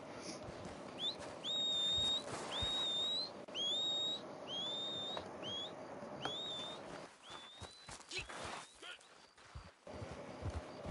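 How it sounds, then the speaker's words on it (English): Short rising whistles in a video game, a player whistling to call a horse, repeated in quick succession over steady game background noise and occasional muffled sounds, fading later into quieter rustling. "Just face eastward, like that way, while whistling"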